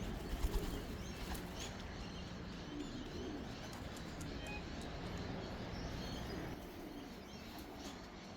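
Racing pigeons arrive at a loft during an Australian pigeon race, soft cooing and a few wing flaps over a steady outdoor background, fairly faint.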